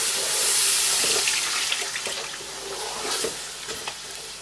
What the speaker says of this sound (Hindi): अब यहाँ पे आपने पहले ऐड करना है इसमें पानी। ज़रा ध्यान से डालिए, क्योंकि इसमें आपको स्प्लैशेस पड़ेंगे, ऑब्वियसली इसमें घी है।